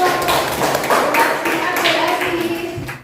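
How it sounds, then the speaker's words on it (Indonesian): Applause from a classroom group fills the whole stretch, dense and steady clapping close by, with voices mixed in beneath it, following a group presentation in a madrasah lesson. "Tepuk tangan untuk"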